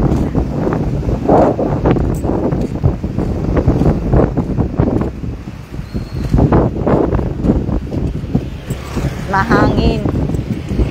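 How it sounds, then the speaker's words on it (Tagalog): Strong sea wind at Baler's Fire Bay buffets the microphone in heavy, gusting rumbles while people chat nearby, with a brief high whistle near the end. "Mahangin nga, eh."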